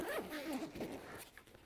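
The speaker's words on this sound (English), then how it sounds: "there's a zipper pouch back here that you can take and" A quick, close zipper pull opens the rear pouch of a Vanguard Sedona 45 backpack, one short ripping zip with no speech.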